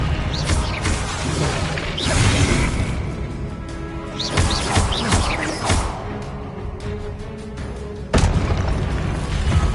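Confringo fire spells in Hogwarts Legacy burst in repeated loud booms and crashes with whooshing sweeps, close and heavy, overlapping amid ongoing combat noise, with a sharp fresh blast near the end.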